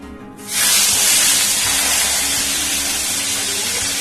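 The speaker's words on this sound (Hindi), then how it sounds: "मैं सबसे पहले फिश हेड फ्राई कर लेती हूँ क्योंकि उसमें थोड़ा ऑयल ज्यादा लगता है" A fish head drops into hot oil and sets off a loud, sudden sizzle that holds steady as a bright, continuous hiss.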